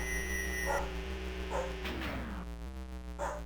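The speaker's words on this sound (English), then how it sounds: "Ooh, that was a howl." A dog named Loopy howls in a room in a video game. The short, whining howl rises and falls in the middle of steady background music, at a modest volume.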